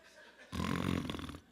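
A single loud, rasping snore breaks in suddenly, close and throaty, lasting under a second before fading back to quiet; it may be a voice imitating snoring during a sermon.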